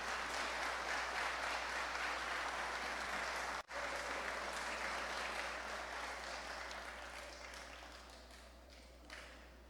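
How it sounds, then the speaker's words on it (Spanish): Audience clapping for a presenter at a startup and venture fund talk, a dense steady patter with one brief dropout near the middle, then gradually thinning and fading toward the end. "Vamos a darle por favor un aplauso a Carlos por la presentación."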